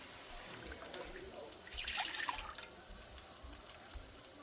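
Stock or broth is poured into a pot for a quick meal, a soft steady trickle that swells into a splashy gush midway and then eases back to a faint running pour, with no talk.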